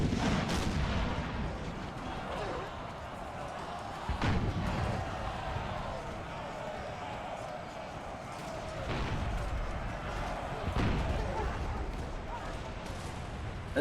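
Musket volleys and artillery fire from a Total War battle, with repeated sharp booming shots around 1, 4, 9 and 11 seconds over a dense, continuous roar of distant gunfire, and a faint voice speaking underneath.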